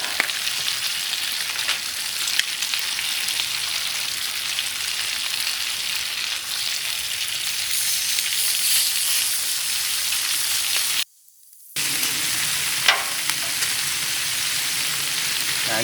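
Bacon and tri-tip sizzle on a CharBroil Performance Series griddle in a steady, dense crackle of frying fat, close and continuous, with a brief dropout near the end before the sizzle resumes.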